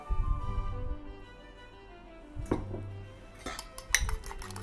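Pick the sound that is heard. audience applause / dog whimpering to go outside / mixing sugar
mixing sugar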